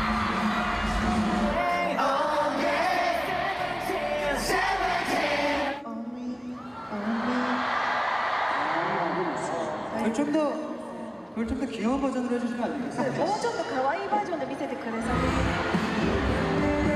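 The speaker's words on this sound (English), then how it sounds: "The cheering." Large concert crowd at a tour show in Japan cheering and screaming in loud waves, with a brief drop partway through before surging again, mixed with music and talk.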